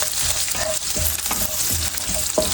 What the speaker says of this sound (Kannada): ಜೀರಿಗೆ ಫ್ರೈ ಆದ ನಂತರ ಈಗ ಬೆಳ್ಳುಳ್ಳಿ ಕಟ್ ಮಾಡಿ ಇಟ್ಕೊಂಡಿದ್ಮೇಲೆ ಹಾಕೋತಾ ಇದ್ದೀನಿ. ಇದನ್ನು ಸ್ವಲ್ಪ ನೀಟಾಗಿ ಫ್ರೈ ಮಾಡ್ಕೋಬೇಕಾಗುತ್ತೆ